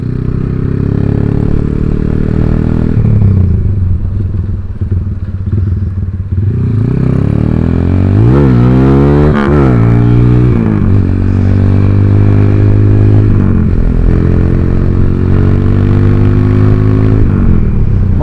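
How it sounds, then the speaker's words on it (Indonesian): A modified Honda Tiger motorcycle engine warms up, idling loud and close with a steady throaty rumble, then revs up and down in a few rising and falling surges. "Motor kurung dipanasi cok."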